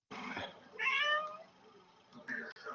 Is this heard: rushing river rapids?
no